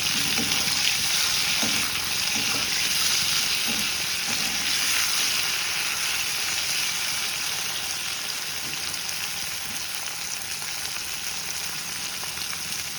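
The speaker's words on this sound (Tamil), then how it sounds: "இன்றைக்கி வந்து இது ட்ரை ஃப்ரை, வாழைக்காய் ஸ்லைஸாக பொடியாக மெலிசாக கட் பண்ணது ட்ரை ஃப்ரை வித் ரசம்." Thin plantain slices dry fry in a pan for vazhaikkai chips, a steady bright sizzling hiss that eases slightly over time, with faint stirring scrapes early on.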